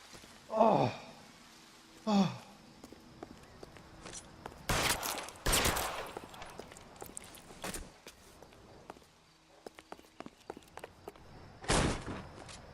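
Gunfire in the video game L.A. Noire: a few sharp, loud shots spaced irregularly across the scene, with groans and gasps early on and scattered footsteps and scuffling in between.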